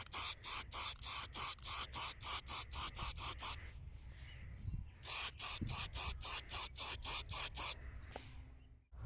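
Aerosol spray paint hissing over a shooting target in a series of short, even bursts, then a pause and another steady run of bursts, close and loud.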